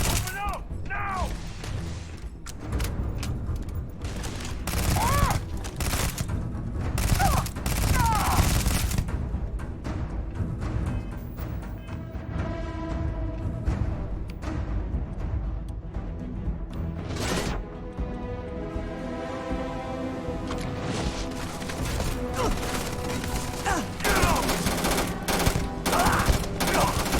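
Gunfire and mechanical clatter from the video game Starfield fill a long combat stretch, with shots, bursts and metallic whirring under a shouting voice.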